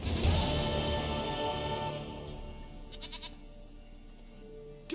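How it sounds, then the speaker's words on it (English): A goat bleats in The Witcher 3 video game, a few loud wavering calls at the start that fade into a quieter sustained bleat, alone with no speech. "Goat of mine, dearest,"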